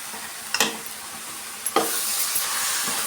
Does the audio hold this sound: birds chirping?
no